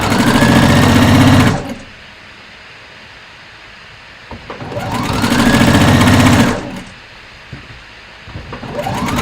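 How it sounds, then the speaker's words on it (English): A sewing machine stitching along the curved folded edge of a ruffle sleeve top in two loud, rapid, steady runs of needle hum, each about two seconds long, separated by quiet pauses with small clicks. "So I'm just going to sew along and fold as I go."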